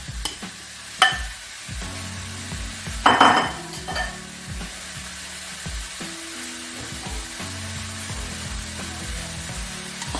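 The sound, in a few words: minced meat frying in a pan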